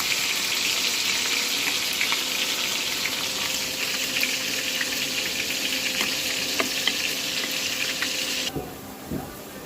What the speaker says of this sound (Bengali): পেঁয়াজটা ব্রাউন কালার করে নেব